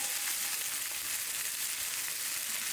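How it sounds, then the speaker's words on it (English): Chicken thighs frying in olive oil in a hot skillet over medium-high heat, giving a steady, close, bright sizzling hiss that runs unbroken throughout with no voices. "I'm going to cook these at a medium-high in a hot skillet with some olive oil"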